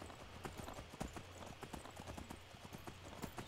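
In the Skyrim video game, a horse's hooves clip-clop in a steady, continuous rhythm of many quick hoofbeats. The sound is fairly faint and at a moderate distance.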